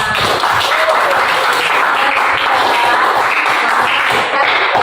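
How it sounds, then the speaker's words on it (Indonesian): A school class claps hands together in a loud, continuous burst, close and dense from start to finish. "Kita tepuk tangan dulu untuk kelas kita semua."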